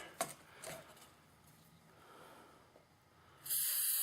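A couple of faint short puffs, then after a quiet stretch a steady, loud hiss of aerosol solvent spray starts up close and continues, sprayed onto a brush while cleaning a .357 revolver.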